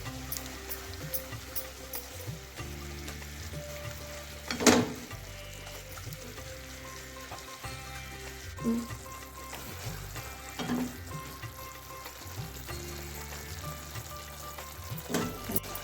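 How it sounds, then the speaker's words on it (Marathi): Jaggery melts in ghee in a pan over a medium flame, giving a quiet, steady sizzle and bubbling broken by a few louder clatters and knocks of a utensil. "पूर्ण त्या तुपामध्ये आपण गूळ वितळवून घ्यायचा आहे"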